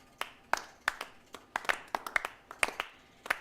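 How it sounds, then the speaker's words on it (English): Scattered hand clapping from a small group, irregular sharp claps spaced through the moment, fairly close and moderately quiet, with no talk over them. "You can talk over the clapping."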